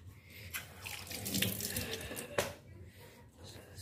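Water runs steadily from a tap onto the piston head of a Yamaha RX King motorcycle engine being serviced, a continuous close splashing wash with one brief clink midway.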